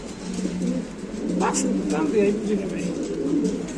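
Pigeons for sale at a Bangladeshi dealer give soft, low, throaty coos that repeat close by, with a brief higher chirp in the middle and people talking alongside.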